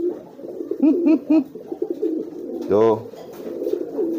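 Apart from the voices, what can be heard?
pigeon cooing loudly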